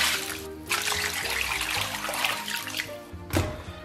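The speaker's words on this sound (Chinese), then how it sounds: "咱们先把排骨给它洗一下" Pork ribs are rinsed under running tap water in a home kitchen, giving a steady close splashing flow with a few soft knocks from the meat and bowl.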